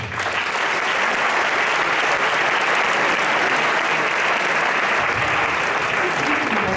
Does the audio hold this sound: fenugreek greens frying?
no